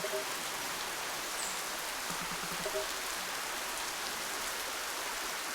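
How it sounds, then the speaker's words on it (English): Steady rainfall in the video game Spirittea, a soft, even hiss of drops that continues without a break, with faint brief tones above it and no talking. "Well, it's raining"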